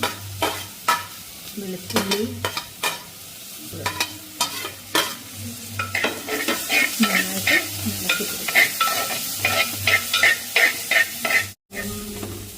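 Garlic, green chilli and ginger fry in a pan, a steady close sizzle broken by repeated scraping stirs and occasional clinks of the spatula, with no talking.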